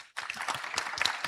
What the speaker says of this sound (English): I also please a round of applause